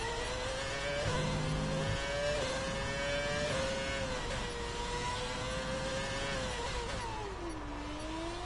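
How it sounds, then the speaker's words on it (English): High-pitched F1 car engines from F1 2020 rev and whine continuously, pitch climbing and dipping through gear changes, loud and sustained with a steady drone beneath. "I do miss these engines though, I'll be honest."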